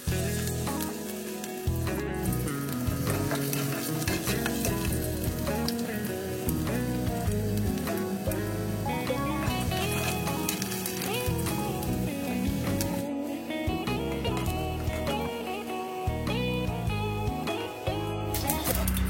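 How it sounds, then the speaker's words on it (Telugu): Onions fry in a heated cast iron pan with a continuous dense sizzle and crackle that holds steady throughout. "కట్ చేసుకుని ఆ హీట్ అయిన ప్యాన్లో ఈ ఆనియన్స్ వేసుకుని మనం ఫ్రై చేసుకోవాలి."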